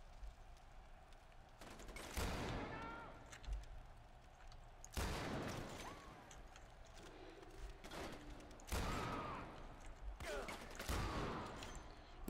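Heavy gunfire from a powerful gun in Far Cry 4, several loud sharp shots spaced a few seconds apart, each with a ringing tail over a quieter game background.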